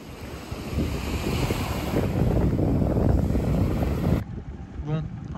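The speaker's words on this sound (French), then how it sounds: "J'adore le bruit de l'eau." Ocean waves washing onto a coral beach on an island, a continuous loud rushing surf with wind buffeting the microphone, dropping abruptly to a quieter wash near the end.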